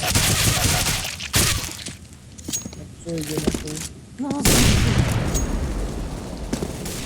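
Gunfire in the video game CS:GO, with a couple of sharp shots and a burst of rapid fire cutting through background game sounds, while players talk over parts of it.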